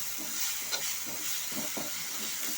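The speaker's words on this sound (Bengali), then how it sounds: "এখন এগুলো তেলের সাথে পাতাটাকে ভালো মতো করে মিশিয়ে নেব" Bottle gourd leaves stirred in hot oil with salt and turmeric in a pan, giving a continuous bright sizzle and hiss with soft repeated scraping strokes, close by and without voices.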